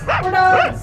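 A Voicemod voice changer turns a person's voice into a dog-like bark. One close, whining yip-bark rises and falls within a second, sounding like a vocal imitation of a dog.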